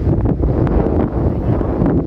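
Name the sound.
wind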